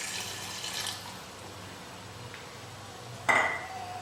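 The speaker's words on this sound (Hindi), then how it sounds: "अब इसके अंदर हम हल्का सा पानी का प्रयोग कर रहे हैं।" Water is poured briefly into a pan of roasting mutton bhuna, a short splash and sizzle near the end after a quiet stretch with light clinks.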